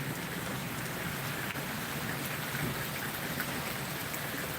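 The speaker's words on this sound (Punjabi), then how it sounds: "ਬਹੁਤ ਜ਼ੋਰ ਦਾ ਮੀਂਹ ਪੈ ਰਿਹਾ ਤੇ ਬਹੁਤ ਜ਼ੋਰ ਦੇ ਗਰਜ ਰਹੀ" Steady downpour of rain with a low, rolling rumble of thunder underneath, fairly quiet overall and without talking.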